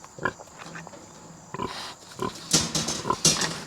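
Pigs grunt and snort in a few sharp, close bursts mixed with scuffling and clatter. The sounds come irregularly and grow busier toward the end.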